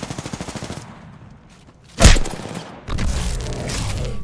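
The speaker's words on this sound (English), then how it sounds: "The enemies are shooting at me." Enemy gunfire in Apex Legends: a rapid burst of shots, then a loud single boom around the middle, followed by more sustained fire, with no talking.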